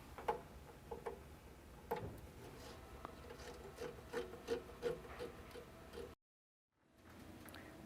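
Quick connect cable for a Greenheck Vektor variable geometry nozzle being threaded onto its connector, a close series of small clicking, rubbing ticks and light rasps, with a brief silent gap near the end.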